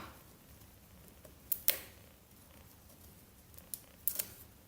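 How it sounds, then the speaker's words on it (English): An Amazon Echo package is unwrapped, with soft crinkles and a few sharp tearing and plastic snaps up close, spaced irregularly in a quiet room. "So let me unwrap this bad boy up."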